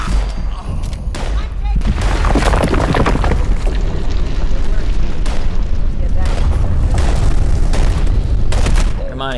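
Planted bombs go off in Fallout 76, filling the air with a loud, sustained rumble of deep blasts and crackling bursts that roll on for several seconds, with voices talking over the din.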